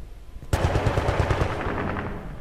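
Rapid automatic gunfire in the video game Battlefield Bad Company 2, a loud burst starting abruptly and rattling on in quick, even shots that fade slightly toward the end.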